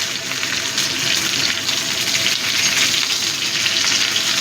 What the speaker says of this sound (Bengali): এবার আমার সবজিটাও সাঁতলানো হয়ে গেছে। এবার আমি দিয়ে দিচ্ছি সজনে ডাঁটাগুলো।